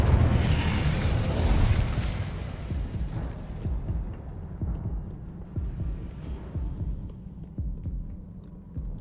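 An Incendio fire spell bursts in Hogwarts Legacy: a loud, deep boom and whoosh that rumbles, then fades into a lower throbbing tail with scattered small pops.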